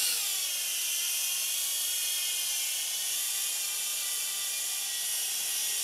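An XK X300 quadcopter hovers and flips, its rotors giving a steady high-pitched whine that stays level and fairly close throughout with no talk.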